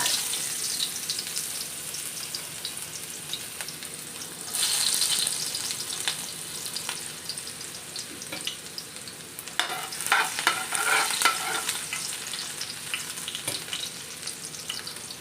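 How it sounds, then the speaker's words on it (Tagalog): Onion sautés in hot oil in a home kitchen, giving a steady, close frying sizzle for the whole stretch. The sizzle swells louder around the middle as the pieces are stirred, with a few clinks mixed in. "Una kong igigisa ay onion."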